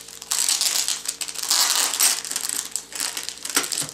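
Packaging of a Noctua CPU cooler being opened, with repeated close crinkling and crumpling of plastic and cardboard in uneven bursts.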